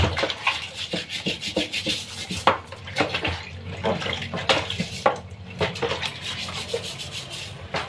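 Pumpkins are rubbed and scrubbed by hand under running tap water, with close splashing, squeaky rubbing and knocking in an irregular rhythm.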